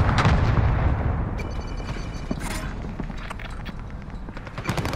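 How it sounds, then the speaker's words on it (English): Cluster airstrike in Call of Duty: Modern Warfare sets off dense, rolling explosions and booms layered with sharp gunfire cracks, loud and continuous throughout with no talk. "Transmitting coordinates for airstrike. I just got your request. Cluster strike is active."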